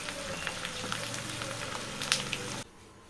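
Sheep blood cubes fry in a pan with a steady, dense sizzle and scattered crackles close by, the hiss cutting off abruptly near the end.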